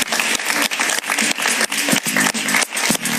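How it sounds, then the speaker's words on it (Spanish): A studio audience applauds a guest on a Spanish-language talk show as it cuts to a commercial break, the dense clapping loud and continuous for the whole stretch with brief dips. "Un aplauso para él, por favor."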